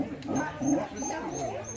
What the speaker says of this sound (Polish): Przyszły się pieski przywitać